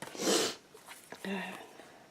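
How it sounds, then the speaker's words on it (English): A single sharp nasal sniffle up close from allergies, followed by faint murmured voice sounds. "I'm having allergies today, so I'm sniffling"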